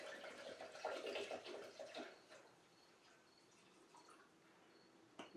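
Liquid poured into a mixing bowl: a faint, steady watery pour that swells for a couple of seconds, then trails off into quiet drips and small splashes, heard alone at low level.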